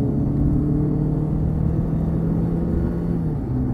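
A Mercedes CLA 200 with a 1.6 turbo engine accelerating from inside the cabin, a loud steady engine drone rising slightly in pitch, with no talking.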